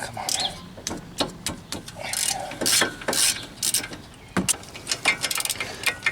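Ratchet clicking in quick bursts while loosening the brake knuckle bolt on a Ford Fiesta, close and fairly loud, with a few sharper metallic knocks between strokes and no talk.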